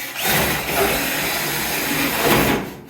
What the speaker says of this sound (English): You're going to want that vacuum running as you drill this out